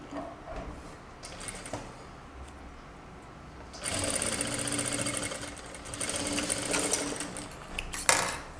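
A sewing machine stitches piping cord into the inside of a deep kurta, starting with a low, faint whir, then running in two longer, louder bursts of steady close-up stitching with a brief rattle near the end, no voices.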